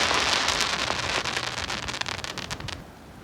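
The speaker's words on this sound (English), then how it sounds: "We're all seeing fireworks." Fireworks bursting above a beach at night, a dense run of crackling pops and sharp bangs that fills the air close overhead before thinning out toward the end.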